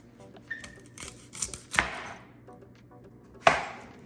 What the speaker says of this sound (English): we need to cut the tips off of it